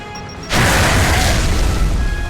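A frag grenade in the Gears of War 3 video game detonates with a sudden loud boom after a quiet moment, followed by a sustained crashing roar.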